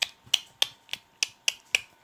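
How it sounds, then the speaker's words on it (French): A dog trots around a living room, its claws clicking on the floor in seven sharp, evenly spaced taps, close by with no talking. "C'est mon chien, il s'amuse à faire le tour du salon."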